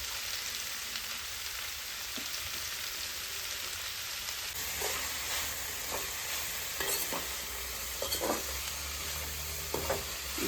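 Onions sautéing in a pan with a pinch of salt for beef curry, a continuous rain-like sizzle that grows busier midway, with repeated close stirring scrapes in the second half.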